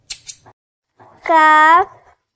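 Scissors give two quick, crisp snips close up, and then a single voice speaks alone.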